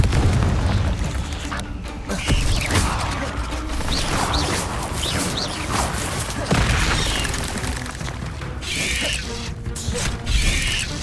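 Repeated Confringo blasting-spell explosions from Hogwarts Legacy, a string of booming blasts and crashes spaced every second or two under continuous game noise.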